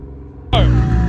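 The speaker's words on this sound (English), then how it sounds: "Tell them to rev it." A truck engine at a truck meet idles low, then bursts into a sudden loud rev, a rising roar that holds to the end.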